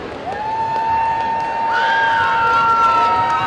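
Crowd cheering and shouting at a roller derby game, loud and sustained, with high-pitched whoops and whistle-like squeals rising over the roar.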